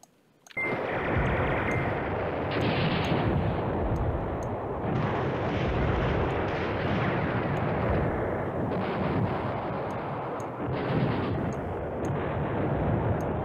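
Bombing and artillery fire in the war strategy game Command Ops 2 make a dense, continuous roar of rumbling blasts that starts abruptly and stays loud throughout, with small chime-like game ticks above and no talk.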